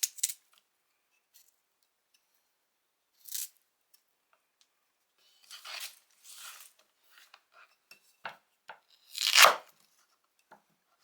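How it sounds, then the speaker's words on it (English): A Marttiini Hiilileuku knife peels a kohlrabi in a quiet kitchen, giving scattered short scraping and cutting strokes, each a brief crisp rasp separated by silence. "peeling kohlrabi is also a joy with this knife"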